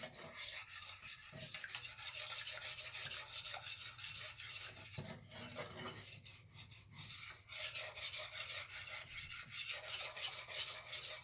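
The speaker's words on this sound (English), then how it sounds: "we're going to whisk that really good until it's all blended in" A whisk scrapes quickly and steadily through Alfredo sauce as Parmesan, Romano and Asiago cheeses are blended in, making a close, continuous rhythmic rasping with brief pauses.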